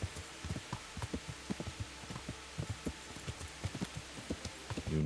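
Horse hooves in the Kingdom Come: Deliverance video game thud in a steady, soft clip-clop over a constant low background.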